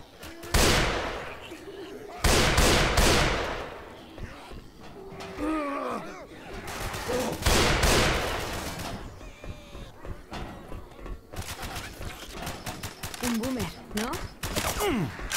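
Gunfire in Left 4 Dead 2 rings out in repeated loud bursts and rapid volleys, with short pauses between them and character voices shouting in between.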